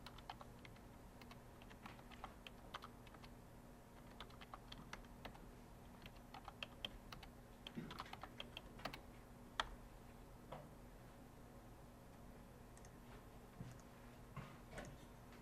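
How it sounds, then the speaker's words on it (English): Scattered soft clicks of graphing calculator keys being pressed, irregular and close, with short pauses between bursts and no talking. "Be really careful as you're typing."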